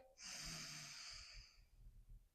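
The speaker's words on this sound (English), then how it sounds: "you're going to breathe in on the left side, close the left, and breathe out of the right, alternating." Alternate nostril breathing during a breathwork session: a single long, close nasal breath lasting over a second, then fading into quiet low rustle with no talking.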